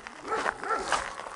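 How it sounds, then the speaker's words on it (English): Neighboring dogs bark aggressively, a rapid run of several loud barks close together that fill the moment, with no talk over them. "Neighbor's dog's barking again."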